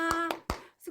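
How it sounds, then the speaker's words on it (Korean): A few hand claps at a church children's service, short sharp bursts spaced apart, fairly close and moderately loud, with a brief pause near the end. "우리 수고해 주신 두 분 선생님을 위해서 박수 보내드려요"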